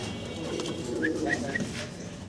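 Pigeons cooing at a pigeon seller's, a few close soft coos repeated in a short rhythmic burst over a hum of background noise.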